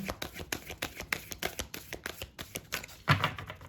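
Tarot cards are shuffled in quick, rapid riffles close up, a dense rhythmic flutter ending in a firmer snap.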